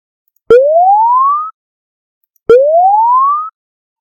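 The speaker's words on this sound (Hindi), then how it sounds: "थोड़ा सा लिटिल बिट सायरन जैसा ये आवाज़ कर रहा है।" Two identical synthetic rising tones generated in Audacity, each sweeping upward for about a second after a sharp click, separated by silence, loud and clean like a short siren whoop.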